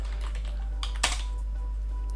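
Computer keyboard typing as a layer name is entered in Toon Boom Harmony 20 animation software: a short burst of close, light key clicks over a low steady hum.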